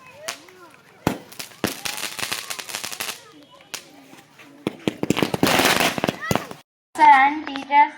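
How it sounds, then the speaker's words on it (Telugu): Firecrackers set off in a village celebration of school exam results, a rapid series of loud sharp cracks and crackling bursts, with short pauses and a voice near the end. "అనంతరం టపాకాయలు కాలుస్తూ ఆనందాలు పంచుకోవడం జరిగింది."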